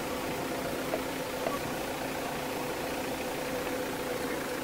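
Safari vehicle engine while driving on a road at dusk in an African game reserve, a steady, moderately loud mid-range drone with constant road rumble and no breaks.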